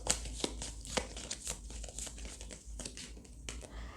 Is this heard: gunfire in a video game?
no